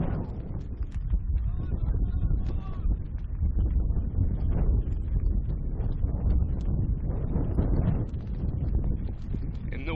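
Strong wind buffeting the microphone at an outdoor ultimate frisbee match between Germany and India, loud continuous gusty rumble throughout with muffled activity underneath.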